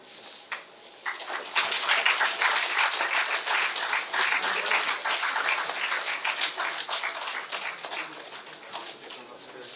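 An audience at a college valedictory function bursts into applause, dense clapping that swells after a brief start and holds loud and steady for several seconds.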